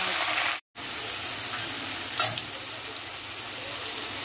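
Vegetables for a carrot curry fry in spiced oil, a steady close sizzle that holds throughout, briefly cut by one short gap and a single stir or clink.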